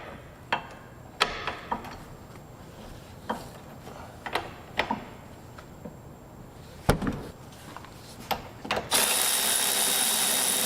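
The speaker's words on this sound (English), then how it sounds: "I got a socket and a 1/2 inch breaker bar because they're on pretty tight." A socket on a half-inch breaker bar working the tight 22 mm caliper bracket bolts on an Infiniti front wheel hub: sparse sharp metallic clicks and knocks at irregular intervals, ending in a loud, steady hiss.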